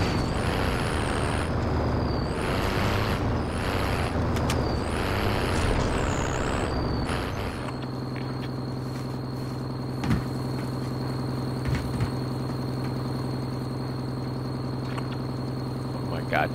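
A vehicle driven in the battle royale game Warzone, a loud engine rumble with repeated rising-falling whines at first, then a steady lower idle drone with a few faint knocks, while players talk.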